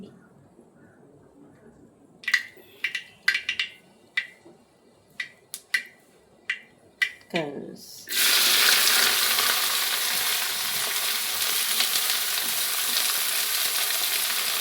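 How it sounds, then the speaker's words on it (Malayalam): Sliced onions, green chillies and garlic drop into hot oil after a few light sharp clicks and taps, then a loud, dense sizzle of sautéing fills the rest, close and continuous. "സവാള വഴറ്റാൻ വെച്ചേക്കണെയാണ്"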